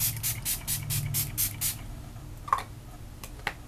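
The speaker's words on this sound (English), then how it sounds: "A little setting spray." A rapid series of about eight short spray bursts of makeup setting spray from a pump bottle, close and crisp, followed by a couple of faint taps.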